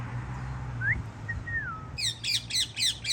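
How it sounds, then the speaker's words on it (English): A pet bird chirps indoors at close range. A few thin, gliding whistles come first, then a quick run of five or six sharp chirps. "every time I talk, this bird starts chirping"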